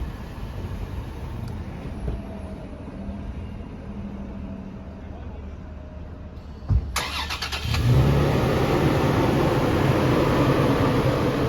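A 2022 Toyota 4Runner TRD Pro engine cranks and catches, then settles into a steady nearby idle after a quiet stretch that has some faint speech.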